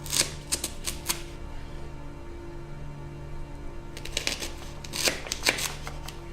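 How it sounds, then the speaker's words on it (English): A knife slices a leek into chunks on a board, a quick run of crisp cuts at the start, a quieter pause, then another rapid cluster of chopping taps near the end. "you're going to wash your leek, and then with a knife, you're gonna cut off the end"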